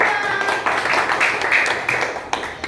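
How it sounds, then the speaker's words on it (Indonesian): A class of children claps for classmates after a group presentation, a steady wash of many small hands filling the room for a few seconds without pause. "sekarang tepuk tangan dulu buat teman-teman"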